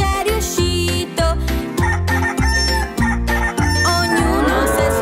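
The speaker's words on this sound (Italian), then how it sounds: "Il gallo non si stanca e canta, infine c'è riuscito" A rooster crows within a bouncy children's farm song, the call blending into steady rhythmic music with a strong beat throughout.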